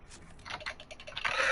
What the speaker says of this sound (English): All I hear is intense typing.